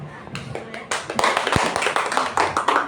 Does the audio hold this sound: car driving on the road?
no